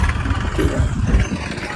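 A tractor engine idles nearby with a steady low chugging rumble.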